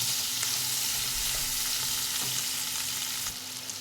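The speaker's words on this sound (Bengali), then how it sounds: "পনিরটা এখানে আমার ভালো করে ভাজা হয়ে গেছে" Paneer cubes sizzle in hot oil in a kadai, a dense continuous crackle close by and fairly loud, with no voices over it.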